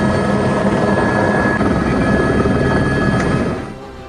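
A rescue helicopter flies low over flooded Rawalpindi, its rotor and engine roar loud and steady throughout before easing slightly at the very end.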